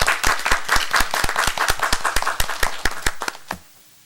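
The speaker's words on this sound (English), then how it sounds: "Let's give them a round of applause." Applause at a school board meeting, a smaller group clapping close by with distinct individual claps at first, thinning and dying away just before the end.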